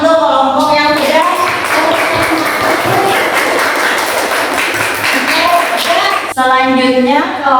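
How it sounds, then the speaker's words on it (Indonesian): Applause for a presenting group of students in a classroom during a teaching-practice lesson, a dense sustained clatter of many hands clapping that fills the whole stretch, loud and close, with a voice briefly audible near the end. "kita beri tepuk tangan untuk kelompok yang sudah."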